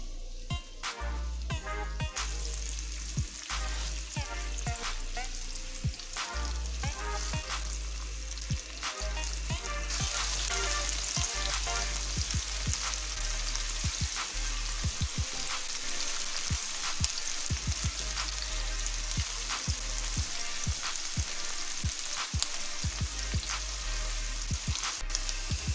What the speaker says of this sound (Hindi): उसके लिए ऑयल डालेंगे, प्याज शामिल करेंगे